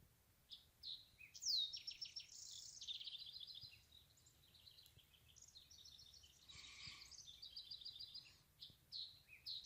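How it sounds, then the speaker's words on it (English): Birds sing and chirp along a mountain trail on Griffith Peak in Nevada's Spring Mountains: several distinct, fairly faint calls and trills overlap and continue throughout, with no voices. "The birds are having no trouble with these conditions."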